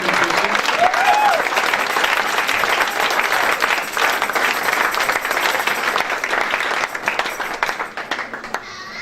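An audience at a Christian gathering celebrating Jesus breaks into sustained, dense applause with some cheering, loud and close at first and tapering slightly toward the end.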